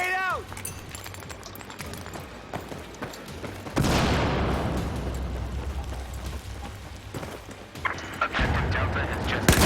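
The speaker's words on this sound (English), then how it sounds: "Grenade out." A video game grenade explosion in the online game Aion bursts loudly partway through, a heavy rumbling boom over ongoing gunfire and game noise, with a second blast near the end.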